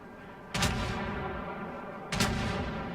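Warship main guns fire in World of Warships, two heavy booming salvos about a second and a half apart, each with a sharp blast and rumbling tail over a constant low ocean and engine drone.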